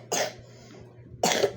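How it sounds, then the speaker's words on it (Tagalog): Two sharp coughs, close by, separated by about a second of quiet. "Inuubo sila."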